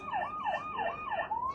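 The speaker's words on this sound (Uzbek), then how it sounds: "Sirenalar bor." A children's toy car plays an electronic siren, a rapid wailing tone sweeping up and down in quick repeated cycles, thin and fairly faint, with no voices.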